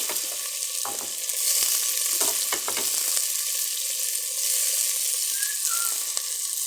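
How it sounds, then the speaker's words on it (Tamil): Onions and green chillies fry in a pan for a chicken curry, giving a steady, close sizzle with occasional scraping stirs throughout, with no voices. "வெங்காயம் பச்சை மிளகா போட்டாச்சு"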